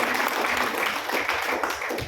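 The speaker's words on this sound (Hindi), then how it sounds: "एक बार फिर से चाहूंगा जोरदार तालियां" Enthusiastic applause from an audience at a motivational seminar, a continuous roar of clapping with rhythmic surges, close and loud, with no clear speech.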